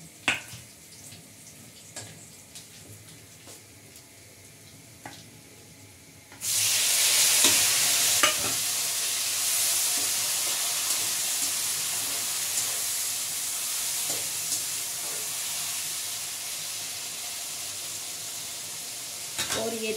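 Tomatoes go into a hot pan already holding cumin and coriander for dhaba-style bhindi. After a quiet stretch with faint clinks, a loud, bright sizzle bursts in and keeps hissing steadily. Occasional stirring clatters come through the sizzle.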